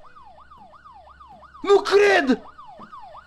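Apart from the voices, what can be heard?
police siren approaching in the video game Fears to Fathom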